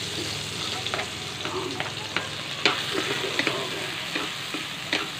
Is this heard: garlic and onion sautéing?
yes